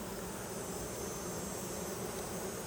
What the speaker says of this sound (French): Là, il y a des abeilles sur chaque côté.